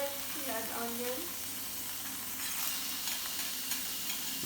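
Garlic and onions frying in a pan make a steady sizzle throughout, with a voice murmuring briefly over it near the start.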